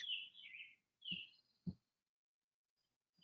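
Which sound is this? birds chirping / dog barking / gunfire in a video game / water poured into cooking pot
birds chirping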